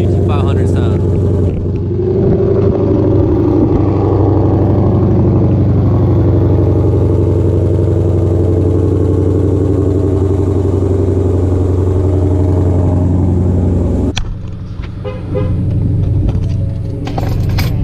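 A Mustang GT500 V8 engine idles with a deep, steady burble close by, holding a strong low rumble throughout before a brief dip and rough rev near the end.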